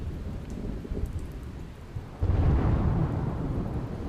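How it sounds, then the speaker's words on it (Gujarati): Heavy monsoon rain pours down in Surat, a steady hiss that swells louder about halfway through, with a low rumble underneath and no voices. "સિઝનના પહેલા જ વરસાદમાં સુરતમાં જોવા મળી છે જળબંબાકારની સ્થિતિ"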